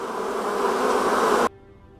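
Honeybees in a hive make a steady, dense buzzing drone that holds at an even level, then cuts off abruptly partway through, leaving only a faint low hum.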